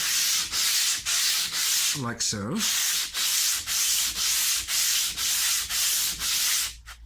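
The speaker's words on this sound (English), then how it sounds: "when you first start sanding the radius onto your fretboard" Rhythmic back-and-forth strokes of a radius block sanding a guitar fretboard, about two per second, steady and close; a brief voice speaks partway through.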